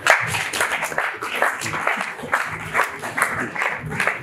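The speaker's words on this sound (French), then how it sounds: "je demande encore d'appuyer par vos applaudissements" A student audience claps during a donation ceremony of 500 benches to IFASIC, a dense, rhythmic burst of applause close by with faint voices underneath.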